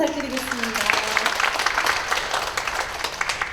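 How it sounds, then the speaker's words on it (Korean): An audience of parents at a lecture applauds steadily, a dense mass of clapping that holds at full strength, with a few voices briefly audible at the start. "우리 입시를 향해 달려가고 있는 고등학생 부모님들 박수 부탁드리겠습니다"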